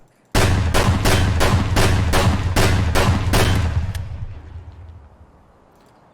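A shotgun fires in a video game: about nine loud blasts in a quick, even rhythm, each with a booming tail that fades into a decaying rumble after the last shot.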